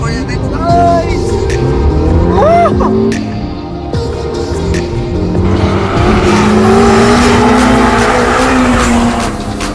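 A sports car accelerates hard with a loud, rising engine roar and brief tire squeal, sustained over the whole stretch, with a voice speaking over the engine noise.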